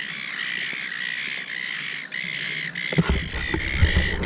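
Seagulls at Cataract Gorge in Launceston squawk repeatedly in sharp, harsh calls over an outdoor background, with a low rumble of wind or handling noise joining near the end.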